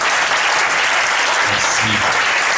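A church congregation applauds steadily, a dense continuous clapping at close range with faint voices mixed in.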